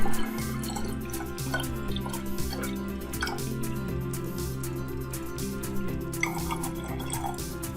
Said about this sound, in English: I'm going to fill the rest with water since it's a syrup consistency